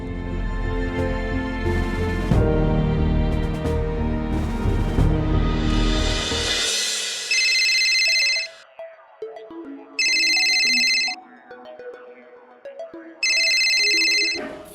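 A loud electronic ringtone plays a melodic tune, then repeats in three bright beeping bursts separated by short gaps of quieter tones.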